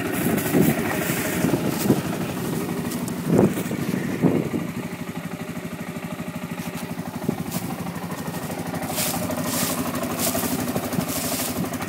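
A 1997 Kawasaki Prairie 400 4x4 ATV engine runs steadily nearby, a low buzzing drone with some louder blips early on and wind buffeting the microphone, no voices.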